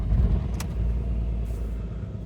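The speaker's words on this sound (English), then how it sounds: "Typical 3-cylinder diesel engine, quite loud, but totally normal for one of these." A 2004 Audi A2 1.4 TDI three-cylinder diesel idles close by, a steady, fairly loud low rumble with a slightly uneven, lumpy beat and a brief click partway through.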